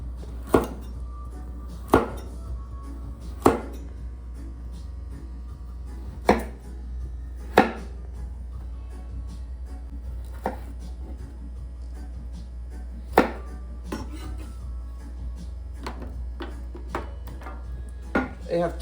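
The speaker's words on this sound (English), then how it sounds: "I'm cutting my carrot." A knife chops carrots on a cutting board with about a dozen crisp, irregularly spaced thuds, close and distinct over a quiet low background hum.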